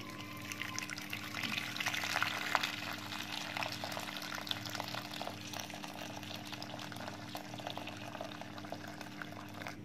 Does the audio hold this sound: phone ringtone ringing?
no